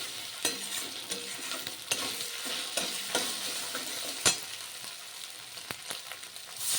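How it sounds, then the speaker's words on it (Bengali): Soaked lentils frying and being stirred in hot oil for a vegetarian pointed-gourd dish, with a steady close sizzle broken by repeated scraping stirs of a utensil against the pan. "ডালগুলো তেলের সঙ্গে একটু সুন্দর করে ভেজে নিচ্ছি।"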